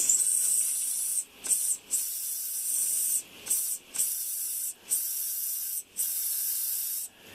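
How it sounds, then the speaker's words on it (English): A continuous high steam hiss from an early Bassett-Lowke Mogul live steam locomotive's whistle, broken by several brief drops at irregular intervals, with a faint thin whistle tone near the start. "The whistle's starting to work a bit."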